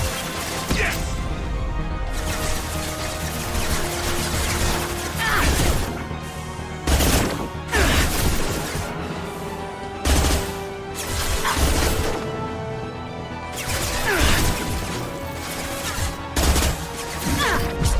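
Dense firefight in Mass Effect 2, with rapid bursts of gunfire, crashes and impacts going on steadily throughout at loud, close range.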